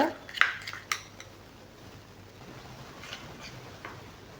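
An herbal hair paste being stirred in a bowl: a few sharp clinks of a spoon against the bowl at the start, then quiet, soft scraping and patting as the mixing continues.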